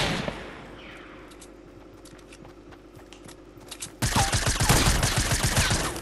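Gunfire in the video game Fortnite Battle Royale: quiet clicks and faint shots at first, then a sudden dense, loud burst of rapid shots and clatter over the last two seconds.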